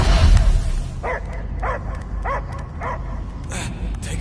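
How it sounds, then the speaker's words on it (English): In the Guardians of the Galaxy video game, a dog gives a string of evenly spaced barks and yips over a low rumbling background, with speech also present. "I hear only barking."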